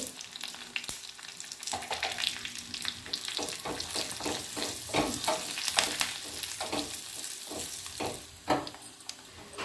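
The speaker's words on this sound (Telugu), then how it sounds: "కరివేపాకు వేసుకొని అట్లనే పసుపు కూడా వేసుకొని కలుపుకోవాలి" Curry leaves and turmeric stirred through a sizzling oil tempering for a ponnaganti leaf tomato-peanut chutney, with crackling fry and repeated scraping strokes of a spoon close by.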